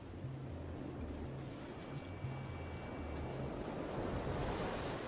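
Sea waves wash steadily onto a shore in a continuous broad roar, with wind rumbling against the microphone and no voices.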